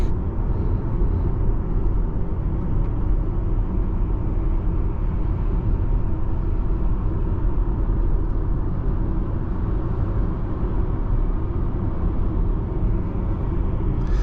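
A 2024 BMW iX xDrive40 electric SUV pulls hard under acceleration, giving a steady, loud broadband road-and-wind rumble heard from inside the cabin for the whole stretch, with no voices over it.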